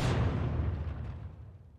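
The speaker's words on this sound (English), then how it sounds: "let's take a look at this particle effect door explosion." A door-breaching explosion in the tactical shooter Ground Branch bursts with a single loud, deep boom that fades into a rumbling decay over under two seconds, with no talking.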